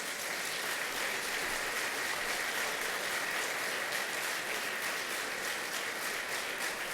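An audience at a governor's announcement about the Buffalo Skyway Corridor applauds in sustained, even clapping from a sizable crowd, steady and fairly loud for the whole stretch.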